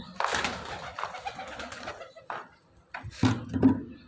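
Pigeons coo near the microphone outdoors, a few soft, low rolling calls in short bursts separated by brief pauses, fairly quiet and with no talk over them.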